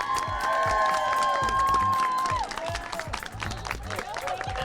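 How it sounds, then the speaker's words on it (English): A crowd at a business opening applauds and cheers, steady clapping mixed with a sustained tone and some voices, fairly loud throughout. "Let's have a big round of applause for the brand new opening today of Liquid"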